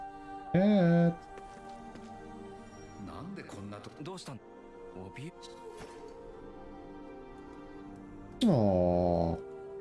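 A video game cat gives short, tonal meows, two clear ones near the start and end, with someone talking quietly in between.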